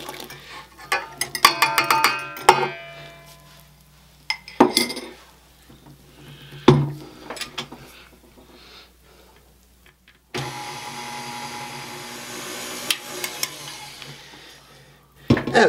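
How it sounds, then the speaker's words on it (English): Yeast mixture being mixed into brioche dough in a bowl, with bursts of clinking and scraping from a utensil against the bowl separated by quieter pauses, close up and with no talking. "we're gonna go ahead and add our yeast mixture to this and just mix it well again"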